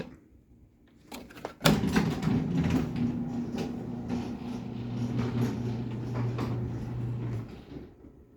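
A LiftMaster 3280 garage door opener runs a mini door, starting with a sharp clunk and then giving a steady mechanical whir and rumble for several seconds before it fades out, with no talking.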